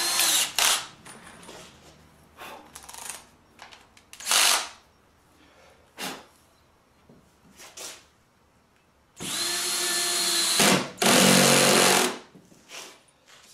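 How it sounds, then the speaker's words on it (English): Drill on ratchet setting driving screws into wood for a homemade shop cutoff jig, heard in several short loud bursts and then two longer sustained runs with a hammering, rattling quality, close and without talk. "See how you put that on the ratchet and it almost acts like a little hammer"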